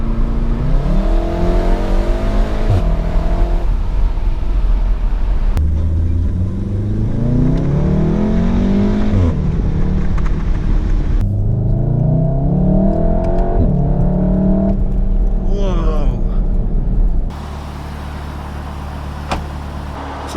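A 2016 VW Golf R with a DSG gearbox and 4Motion drive is revved hard while driving, its engine rising and falling in repeated pulls with gear changes in between, loud and close with no talking.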